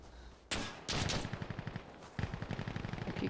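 Rapid automatic gunfire from the video game Insurgency Sandstorm, loud bursts of machine-gun fire starting abruptly, pausing briefly, then resuming in dense rattling volleys with overlapping shots.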